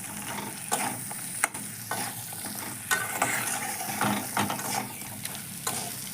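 Hilsa fish heads sauté with spices in a pan, a continuous close sizzle broken by scraping stirs and occasional utensil knocks against the pan. No talking.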